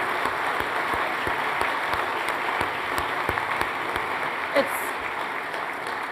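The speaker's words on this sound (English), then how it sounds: "how about a big round of applause for Piers Morgan?" Audience applause for Piers Morgan at a book talk event, a broad even wash of clapping sustained throughout, fairly distant with a few brief sharper sounds.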